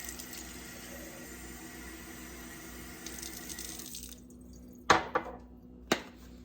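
Water pours steadily from a watering container onto garden soil in a container, a soft continuous splash that stops, followed by a few sharp knocks and clunks nearby.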